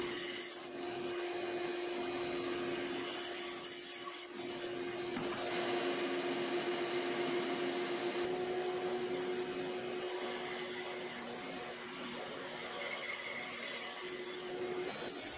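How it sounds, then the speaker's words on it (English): Bandsaw cutting wooden body pieces for a large ant model, a steady loud mechanical whine with a constant motor hum running throughout, alone with no voices. "Now I'm using the bandsaw to begin shaping the body pieces."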